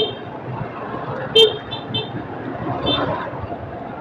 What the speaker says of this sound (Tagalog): Busina-busina ka dyan.